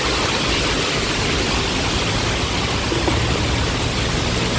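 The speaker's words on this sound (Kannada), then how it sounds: "ಪಕ್ಕದಲ್ಲಿ ನೀರು ಹರಿತಿದೆ." A nearby stream flows in a steady, loud, unbroken rush of water, with no voices.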